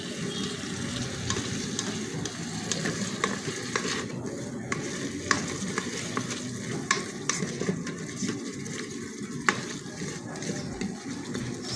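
Steady sizzling of goat meat stew frying in a pot, with intermittent scraping and clinking as it is stirred, close and continuous.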